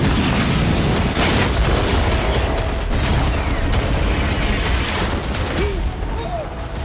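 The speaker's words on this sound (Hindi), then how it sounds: "भीषण गोलाबारी करके" Heavy shelling and gunfire in the Gaza war, a dense, loud barrage of booms and cracking shots that roll on without pause and merge into a continuous roar.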